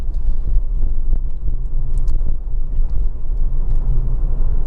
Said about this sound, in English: it pulls absolutely beautifully and sounds fantastic for a diesel